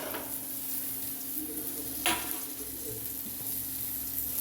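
Carrot, beans and potato fry in oil with a soft, steady sizzle, fairly quiet and close, broken by one brief clatter partway through.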